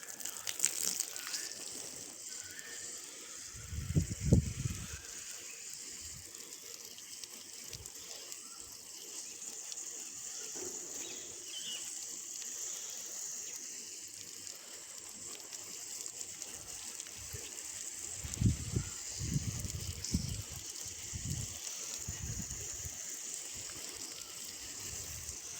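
Water splashes onto potted mint plants in a small home garden, in several soft gushing bursts over a steady background hiss.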